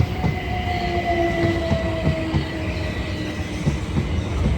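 A Class 387 electric train, unit 387121 leading, departs Clapham Junction on a service to Alton, with steady rolling rumble, a sustained motor whine and rhythmic wheel clicks over rail joints, close and continuous throughout.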